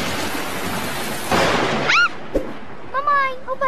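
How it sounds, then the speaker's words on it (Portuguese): Cartoon thunder rumbles during a rainstorm, with a broad crash swelling midway over a steady hiss of rain, while children's voices and an adult talk in between. "o barulho do trovão está muito alto"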